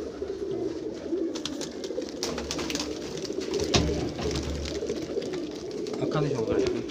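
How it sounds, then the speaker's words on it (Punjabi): Golden red-eyed jira pigeons coo steadily at close range, many birds overlapping in a low, murmuring chorus that holds at an even level throughout. "ਸਾਰੇ ਗੋਲਡਨ ਗੋਲਡਨ ਲਾਲ ਅੱਖਾਂ ਦੇ ਜੀਰੇ ਕਬੂਤਰ।"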